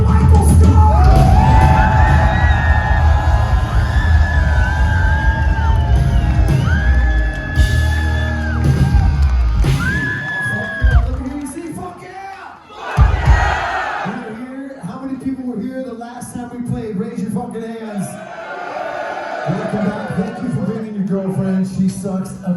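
A rock concert crowd at a live show yells, whoops and cheers loudly, with amplified voices from the stage, sustained guitar tones, and a sharp bang partway through.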